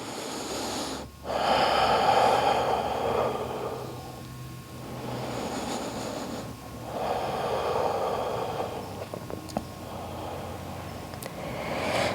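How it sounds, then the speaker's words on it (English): Deep yoga breaths, slow audible inhales and exhales during a standing pose, about three long breath cycles in a row, close and fairly soft. "As we take 3 inhales and 3 exhales."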